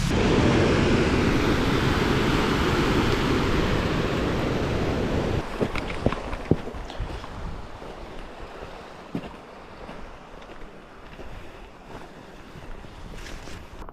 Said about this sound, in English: And there's a monster waterfall over there.